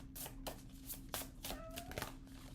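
Cards are shuffled close by in a series of quick papery riffles and taps, irregular and moderately quiet, with a faint steady hum behind.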